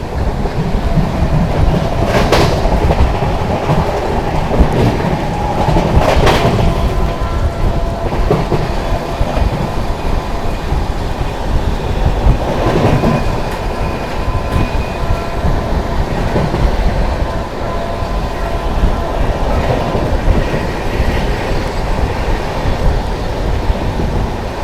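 The Howrah Rajdhani Express thunders past at high speed on the adjacent track, a loud, continuous roar of wheels and rushing coaches with rhythmic clickety-clack and brief sharp clanks, heard close up without any voices.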